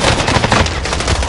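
Loud, continuous automatic gunfire from the video game Call of Duty Warzone, a rapid, dense rattle of shots filling the whole stretch with no pause.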